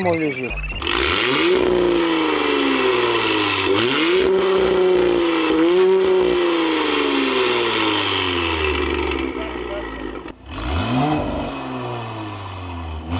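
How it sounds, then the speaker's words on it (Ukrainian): A tuned Audi SQ exhaust with Stage 2 chip tuning revs and accelerates loudly nearby, pitch sweeping up through several gear shifts with a deep, throaty rumble and brief pops. "має дуже класний звук вихлопної системи"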